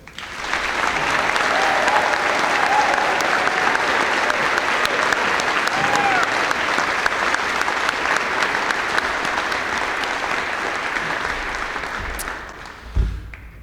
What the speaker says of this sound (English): congratulatory applause to our graduates.